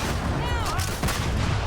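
Shotgun blasts in the video game Starfield, dense booming gunfire packed into a short, loud burst with echoing impacts and a faint voice underneath.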